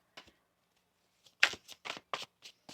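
Tarot cards riffled and shuffled by hand in a quiet room, a close, crisp run of several quick papery bursts after a brief first flutter, with no speech.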